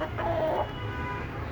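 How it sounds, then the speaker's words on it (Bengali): Domestic deshi chickens, a rooster and a hen, cluck softly and close by on a hot, humid day, a short steady run of low fowl calls with no talking. "হেজা মোরগ আর একটা মুরগি,"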